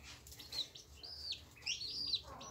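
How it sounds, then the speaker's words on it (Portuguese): Chicks peep from beneath a brooding quail hen in a pen, giving faint, high, scattered cheeps at a distance over a soft background hiss. "Eles ficam piando demais"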